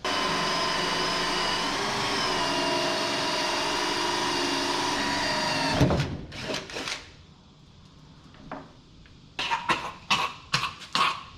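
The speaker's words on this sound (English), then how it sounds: "I think we just burned our way through that 3/4 inch wood" Power saw burning its way through 3/4 inch wood in a workshop, a loud steady whine for about six seconds that cuts off abruptly, followed by clattering knocks and short bursts of handling noise.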